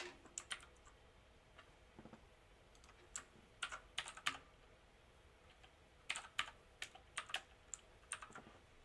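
Keys on a computer keyboard are tapped in short irregular bursts of quiet clicks with pauses between them, close and soft in a quiet room.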